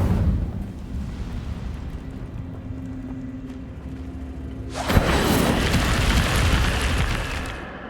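Incendio fire spell blasts in the Hogwarts Legacy video game: a low hum gives way to a sudden loud burst near the midpoint, followed by a sustained roaring, crackling rush of flame that fills the rest of the clip.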